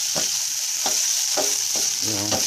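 Steak meat sears in a hot pan with a loud, continuous hiss, and a few spaced scrapes and pushes of a utensil rise above the sizzle at close range.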